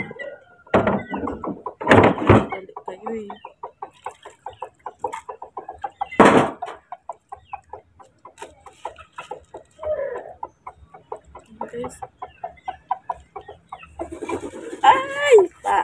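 Chickens clucking close by in bursts of short, choppy calls spread across the whole stretch, with a few sharp louder knocks and a sustained squawk near the end.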